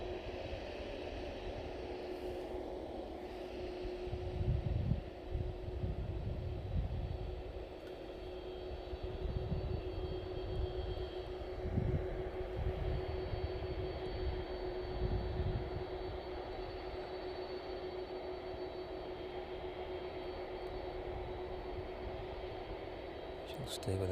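A DHL Boeing 767 taxis in at East Midlands Airport, a steady low engine drone with a whining tone holding constant for the whole stretch, while a voice talks over it.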